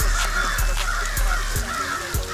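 Crows caw agitatedly in a noisy outdoor street setting, repeated harsh calls overlapping in an irregular rhythm, fairly near and loud over a steady background hum.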